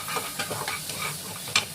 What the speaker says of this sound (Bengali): মশলাটা খুব ভালো করে কষাতে হবে